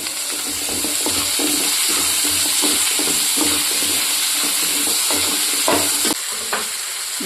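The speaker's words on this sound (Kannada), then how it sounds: "ಇವಾಗ ಒಂದೆರಡು ಟೊಮೊಟೊ ಹಾಕ್ತಾಯಿದ್ದೀನಿ" Tomatoes with onion and garlic sizzle loudly in a pan for fish sambar while a spoon stirs them in steady scraping strokes, a continuous close frying hiss throughout.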